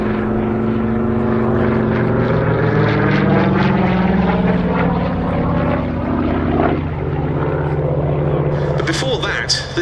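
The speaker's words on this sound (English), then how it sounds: "this is a genuine ex-French Armée de l'Air Hawk 75A1 that flew during the Battle of France" Curtiss Hawk 75A1 propeller fighter, an ex-French Armée de l'Air airframe, flying at a Battle of Britain airshow at Duxford; a loud, steady piston-engine drone with swelling harmonics sustains throughout, with crowd or commentary voices mixed beneath.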